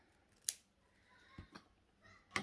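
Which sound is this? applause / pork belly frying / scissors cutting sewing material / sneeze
scissors cutting sewing material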